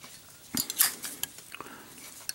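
Faint metallic clicks and clinks from a stainless steel Zippo lighter with a brushed chrome finish, a few sharp snaps of the lid heard close up in a quiet room.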